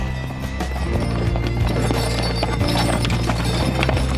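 Horses on a farm walk with a steady clip-clop of hooves over a constant low rumble and background noise, the hoofbeats fairly close and continuous throughout.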